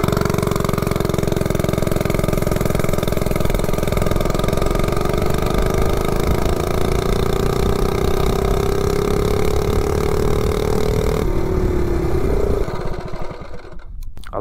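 A 98cc mini bike fitted with a 70-tooth rear sprocket revs up hard, its engine note climbing steadily in pitch for about eleven seconds before it cuts off abruptly near the end.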